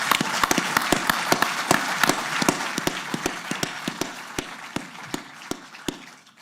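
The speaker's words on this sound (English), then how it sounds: "I'd just like to have a round of applause right there." Audience at a New York Jets press conference gives a steady round of applause, many hands clapping close and continuously for the whole stretch with no talk over it.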